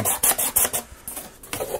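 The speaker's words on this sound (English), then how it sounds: "I will stick with the sanding." Repeated short rasping strokes of sandpaper on wooden model parts, close up, in an uneven back-and-forth rhythm with brief pauses.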